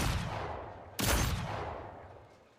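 Pistol gunfire in the Arc Line video game, a burst of shots in a single sharp onset whose loud blast then trails off into a long fading decay, with no talking over it.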